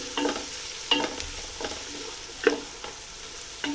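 Onions fry in ghee and oil in a pan for chicken biryani, with a light steady sizzle and a series of spoon scrapes and taps every second or so, and no speech.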